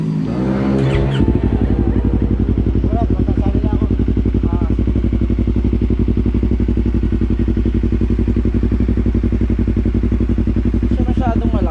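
A Yamaha YZF-R3 motorcycle fitted with a Yoshimura stainless exhaust idling loudly and close, a deep rapid throbbing pulse after a short rev at the start, steady throughout with occasional voices in the background.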